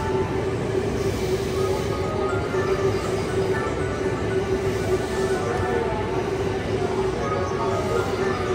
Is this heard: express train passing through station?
yes